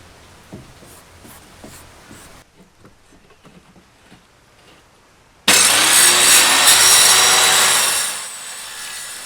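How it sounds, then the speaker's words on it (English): Excess is cut off a 12 mm marine grade plywood sheet, first with quiet scraping and marking sounds, then a loud powered saw roars through the timber for a few seconds before winding down. "then we're going to cut that excess bit of timber off"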